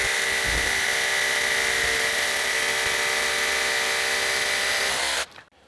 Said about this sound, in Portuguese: Aí para vocês verem que fura muito bem, ó.